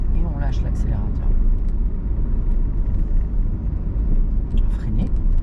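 A car's engine rumbles steadily as it accelerates on a road during a driving lesson, loud and close from inside the cabin, with a voice speaking briefly over it.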